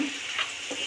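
Winter vegetables (flat beans, spring onion greens and potato) sautéing with salt in a pan, an even close sizzle with a couple of faint stirring scrapes.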